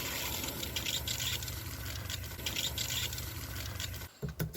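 City water rushes steadily into an RV fresh water tank with a continuous hissing flow, close by, then cuts off abruptly near the end with a few clunks.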